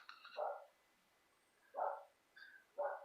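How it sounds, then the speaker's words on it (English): Dogs bark in the distance, three or four separate barks spaced out over a quiet background. "And dogs barking."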